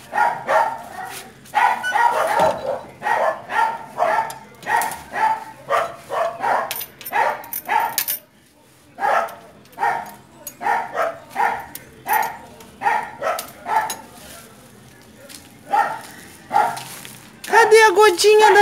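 Street dogs bark repeatedly in quick bursts, close by, mixed with excited whimpers and yips, with a voice talking over them.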